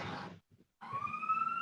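A wailing siren rises in the background, clear and moderately loud for about a second after a brief gap, with no talk over it.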